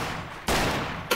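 Gunshot striking a watermelon in a video game, one sharp loud blast followed a moment later by a second shorter crack, with no talk.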